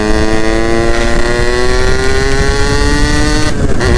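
A Yamaha F1ZR two-stroke motorcycle engine revs steadily and close by. Its buzzing tone climbs slightly in pitch and stays loud throughout, with no one talking.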